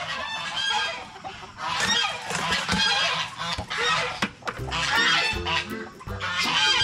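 Geese honk loudly and repeatedly at a farmyard, with chickens clucking among them in a busy, overlapping chorus of bird calls that rise and fall in bursts.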